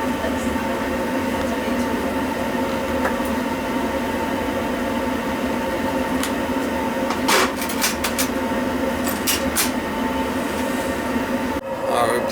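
A Riello oil burner runs with a steady, continuous roar and hum, joined by a few sharp clicks and knocks near the end.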